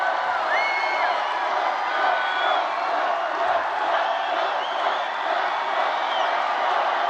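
A packed political rally crowd at a 2024 election event, a loud, dense wash of cheering, whooping and shouting voices that holds steady throughout, with a few individual yells rising above.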